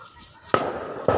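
Two sharp, loud bangs like firecrackers or gunshots ring out about half a second apart, each trailing a short echo.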